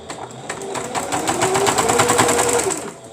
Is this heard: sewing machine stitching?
yes